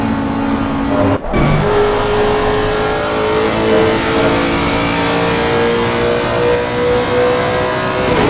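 A Ferrari race car in the racing game ACC drones and revs steadily at high power, close and loud throughout, with a brief gear-change dip early on and no talk.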